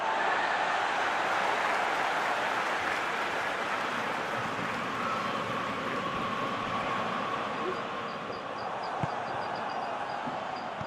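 A football stadium crowd gives a broad, sustained roar of noise that stays steady and full throughout, while a commentator talks over it.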